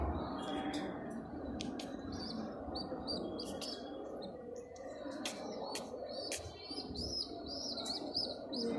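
Pigeons coo and chirp continuously inside a loft over a dense background murmur, with someone speaking Arabic nearby.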